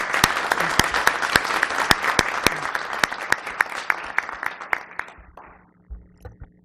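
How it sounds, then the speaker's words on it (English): Board meeting attendees clap for their congressman, a burst of applause with sharp individual claps standing out over the crowd that thins and trails off into a few scattered last claps. "Let's have a round of applause for our Congressman."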